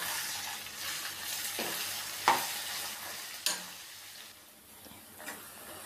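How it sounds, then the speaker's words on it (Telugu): Grated raw mango frying in oil over medium flame, a steady close sizzle with occasional scrapes and clicks of a spoon stirring through the pan. "ఇట్లా మామిడికాయ తురుము వేసాక ఒక 5-6 నిమిషాలు ఇట్లా మీడియం ఫ్లేమ్ లోనే ఫ్రై చేసుకోవాలండి"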